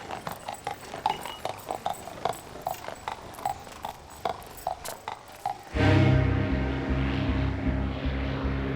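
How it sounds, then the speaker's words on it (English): Horse hooves clip-clop in a steady rhythmic clatter, then a loud propeller aircraft drone swells in and takes over. "the clatter of horses' hooves can both sound like a knell and yet resound with hope"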